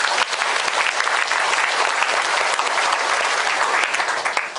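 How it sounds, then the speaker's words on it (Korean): A church congregation at a Sunday morning worship service claps together in sustained, dense applause, loud and even throughout, with no voices standing out. "되신 하나님께 감사와 찬양의 박수를 드립니다."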